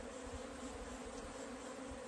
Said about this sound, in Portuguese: Eu vou mexer com essas abelhas aqui.